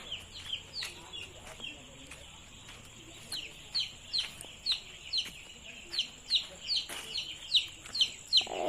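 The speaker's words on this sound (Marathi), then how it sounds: "इथं बी पक्षी टाकलेले" Chickens in a poultry shed give off a steady run of short, high chirps and clucks, dense and close, over a low hum.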